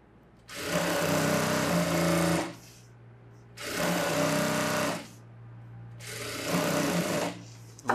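A sewing machine runs in three sustained, steady whirring bursts of about two seconds each while stitching a princess-cut front-open blouse, loud and close with short quiet gaps between runs and no talking.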